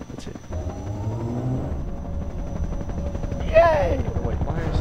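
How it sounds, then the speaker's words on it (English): Helicopter rotor drone in the video game Human Error, a steady low rumble running through the whole stretch alongside game effects and a brief whooshing sweep near the end, with a voice speaking over it. "Oh, that's a chopper."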